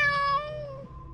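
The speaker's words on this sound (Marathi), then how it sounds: "मला अचानक मांजराचा आवाज ऐकू आला." A single drawn-out meow from a grown cat, close and clear, falling in pitch and fading over about a second with no one speaking.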